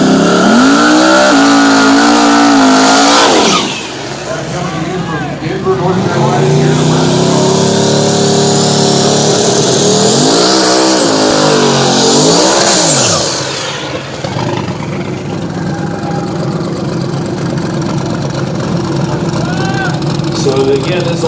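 A turbocharged Fox body drag car runs down the strip at KD Dragway, a loud sustained engine roar rising and falling through gear changes, with turbo whine, and an announcer's voice in the mix.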